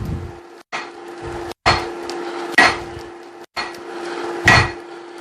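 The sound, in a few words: hammering hot steel to forge a hammer eye drift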